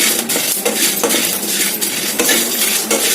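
Cloves and cardamom fry over medium heat in a pan, with a steady close sizzle and a spatula scraping and clinking rhythmically against the metal, loud and continuous with no talking.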